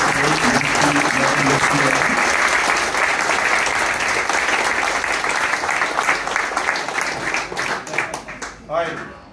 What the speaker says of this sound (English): So again, a big round of applause for Ianis.